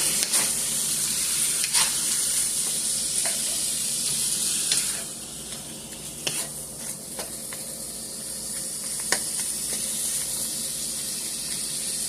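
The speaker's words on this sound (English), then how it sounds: "So now we'll just go ahead and get our meat fried up." Meat frying with onions and peppers in a hot pan for cheese steak fries, a steady close sizzle and hiss with occasional scraping stirs and clinks of a utensil.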